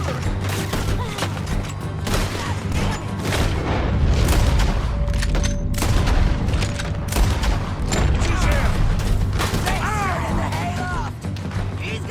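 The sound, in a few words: gunshots in the video game Red Dead Redemption 2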